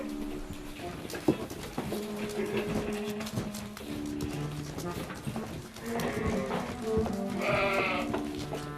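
Sheep bleating in the Austrian Alps as a flock reaches a stable, several short calls repeating over a steady crowd murmur, with other animal and bird sounds mixed in.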